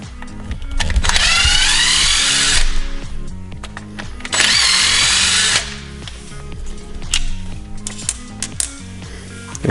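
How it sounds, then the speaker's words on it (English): A power drill backs screws out of the rear end of a Traxxas RC car, whirring loudly in two sustained bursts of a few seconds each, with quieter clicks and handling noise between them and no speech. "Then we're going to take the 4 screws out to take the rear end off."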